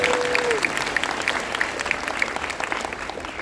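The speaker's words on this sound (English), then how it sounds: "Clap it up." A convention panel audience at San Diego Comic Con applauds steadily, a thick and even burst of clapping that holds at full strength throughout.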